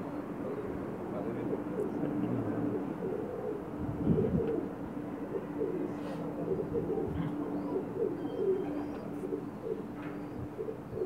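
Soft, low cooing of Pakistani pigeons repeats steadily beneath a constant hum of background noise, with a brief thump partway through.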